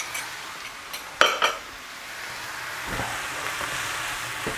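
Beef stroganoff ingredients with paprika fry in a pan over high heat, giving a steady soft sizzle broken by a couple of sharp metal utensil clanks against the pan early on.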